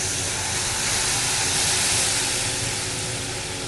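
Loud continuous sizzling and hissing as tamarind water hits very hot oil in a pan, a steady dense spatter that barely changes.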